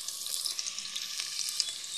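Onion and garlic sauté in a pan with a soft, even, crackling sizzle that stays faint and steady throughout, with no voices.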